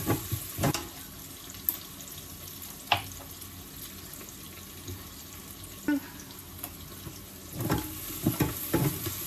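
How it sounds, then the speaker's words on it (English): Onions cooking in a single pot on a cold day, giving a low continuous sizzle broken by scattered stirring knocks and utensil taps, with a cluster of clattering near the end. "So here the onions are getting ready. I'm cooking the onions."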